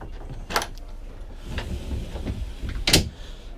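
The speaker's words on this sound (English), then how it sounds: "it's best to close this door if you're doing this" A cabin door on a Cranchi Z35 yacht shuts with a couple of sharp, close knocks and a latch click, separated by softer handling noise.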